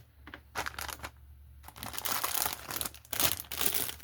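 Plastic bags from a model car kit being opened and handled close by, crinkling and crackling in irregular bursts with short pauses, getting busier and louder toward the end.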